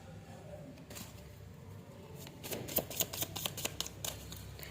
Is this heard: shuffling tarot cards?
yes